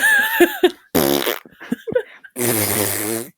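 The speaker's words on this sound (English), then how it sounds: "that little Nickelodeon sound board of all the fart noises" Fart noises from a Nickelodeon toy sound board, several cartoonish bursts: a couple of short squeaky blips, then a long buzzy raspberry, a few quick sputters, and a final sustained loud buzzing fart.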